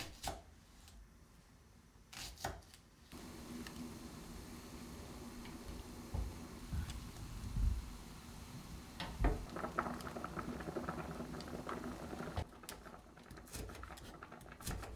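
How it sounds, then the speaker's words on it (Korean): Homemade cheonggukjang (rich soybean paste) stew with squash, onion and mushrooms simmers in a pot, giving a soft, steady bubbling and popping with a few sharper knocks, faint and close with no talking. "호박과 양파, 버섯 넣고 보글보글입니다."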